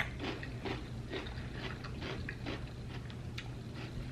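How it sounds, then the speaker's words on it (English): Crunchy pickles being bitten and chewed as a late-night snack, a series of close, sharp crunches arriving every half second or so over a low background hum, with no talking. "I'm having a late night pickle snack."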